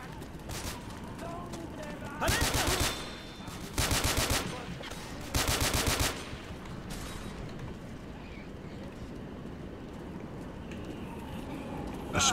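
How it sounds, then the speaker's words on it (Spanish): Gunfire at a zombie in Left 4 Dead, three loud bursts of rapid automatic shots spaced a second or two apart, over ongoing game noise and background chatter. "¿Cómo que Francis está disparando un zombie ahí?"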